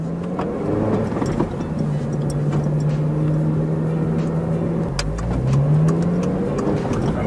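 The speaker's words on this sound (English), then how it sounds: "Let's hit some VTEC, baby." A Honda Civic Si engine revs hard through the gears, its tone climbing steadily into the high-rpm VTEC range, dipping briefly at a shift and then rising again, heard close from inside the car with no talk.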